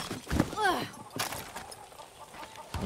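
Chickens in the video game Far Cry 6 give a few short clucks and a rising squawk close by over a busy, noisy game background, with a couple of sharp thumps.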